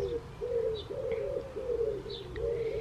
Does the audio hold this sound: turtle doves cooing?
yes